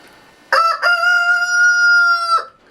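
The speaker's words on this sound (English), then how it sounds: "Like I said, I have my chickens, my roosters, in here" A rooster kept in a garage with chickens crows once up close: a loud, sustained cock-a-doodle-doo of about two seconds with a clear, strongly tonal ring, set against quiet surroundings.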